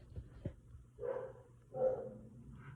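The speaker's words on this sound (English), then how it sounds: "Excuse my dog talk barking in the background." A dog barks in the background, a few short muffled woofs spaced irregularly at moderate distance, with no speech over them.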